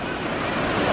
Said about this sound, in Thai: ส่วนด้านล่างตรงนี้ที่เราดูตะกี้เป็นน้ำตกนะเนี่ย